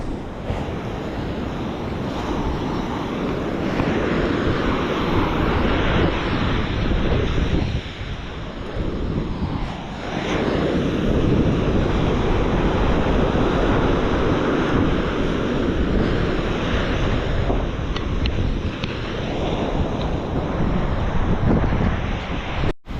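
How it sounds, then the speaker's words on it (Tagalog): Strong typhoon wind under a Signal No. 3 storm warning in Batangas roars steadily into the microphone, a loud continuous rumbling gust with brief lulls, mixed with a wash like surf. "Ngayon hangin na."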